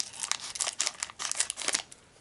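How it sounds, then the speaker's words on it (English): Scissors cut open a Pokémon Darkness Ablaze booster pack, giving a quick series of close crinkling snips through the foil wrapper over about two seconds. "I'm going for the scissors."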